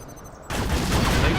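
A laser tank fires in the video game Command & Conquer Zero Hour, a sudden loud crackling burst that cuts in after a brief quieter moment and holds steady.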